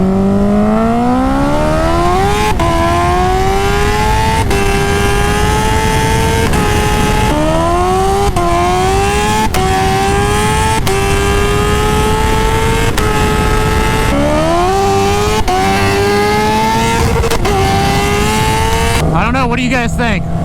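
A stretched 300 hp Kawasaki H2R pulls hard from 60 to 130 mph, engine note climbing in steep rising sweeps with sharp gear changes about every two seconds, loud and close under constant wind roar throughout.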